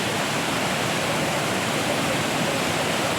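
Bulawan Falls in Pagadian City pours as a steady, full broadband rush of falling water, close and continuous with no break, and no voices over it.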